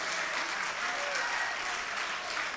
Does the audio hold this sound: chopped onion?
no